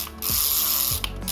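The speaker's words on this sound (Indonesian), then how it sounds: "untuk suara clicker dari spool masih kencang, bagus" A fishing reel's spool clicker ratchets in a fast, close, loud run of clicks with brief pauses, mechanical and dry, from an Ajiking Samson Z reel.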